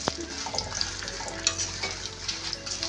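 Three ingredients frying lightly in oil for a spicy lemon chilli chutney, a moderate sizzle with soft crackles and a few metallic stirring taps up close, no voices.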